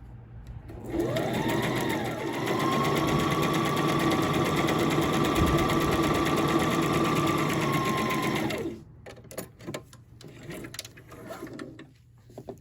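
A sewing machine runs steadily for about eight seconds, stitching a seam on a jogger set with a continuous, close mechanical whir, then stops, leaving light handling noises.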